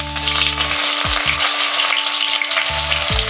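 Chopped onion and black cumin seeds frying in hot oil for a tengra fish curry, a loud, dense sizzle right up close with a few stirring scrapes and a low hum beneath, no talking.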